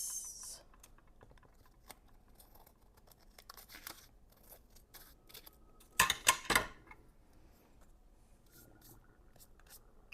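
Paper is cut for gel printing: a short burst of crisp snipping and rustling rises against an otherwise quiet room with faint handling noises.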